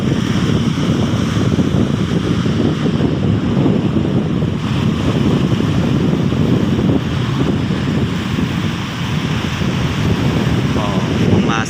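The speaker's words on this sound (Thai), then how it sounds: "นี่คือหาดกำนันนะครับ เลชายาจังหวัดสุราษฎร์ธานีนะครับ ทะเลชายานะครับ" Sea waves at Kamnan beach in Chaiya, Surat Thani wash in a continuous loud surge, heavily mixed with buffeting wind noise on the microphone, with no voice heard.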